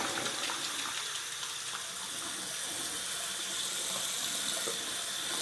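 A tap runs hot water steadily into a sink while black and white film is developed at home, a continuous close hiss and splash throughout with no talk.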